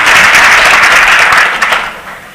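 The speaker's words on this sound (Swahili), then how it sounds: "Makofi kwa our Deputy President." A crowd at a political rally in Bomet, Kenya, applauds the Deputy President with loud, continuous clapping that swells briefly and then fades over about two seconds.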